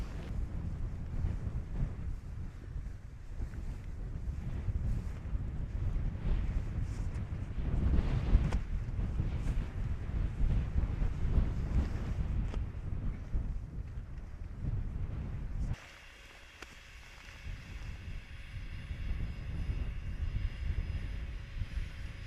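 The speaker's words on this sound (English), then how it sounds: "the wind's hitting it from this way" Strong wind buffets a wild camp in the Peak District moors near Seal Stones, roaring steadily and loudly against the microphone with gusty surges, then easing to a lower, steadier rush for the last few seconds.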